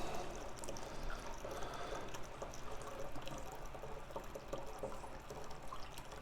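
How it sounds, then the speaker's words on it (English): Water pours steadily into a tilted funnel while a special Cabernet Sauvignon is being made, giving a continuous, close, moderately loud stream with faint gurgling through all six seconds and no talking. "tilt the funnel just a little bit, it allows some air to escape so it doesn't gurgle and splash water all over"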